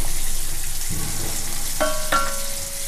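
Dry fish and gongura fry in oil in a cast iron pan with a continuous close sizzle. A couple of metallic ringing clinks from a utensil come near the end, and no one speaks.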